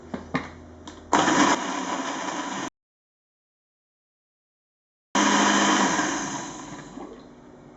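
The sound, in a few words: blender mixing basil, lemon juice and cream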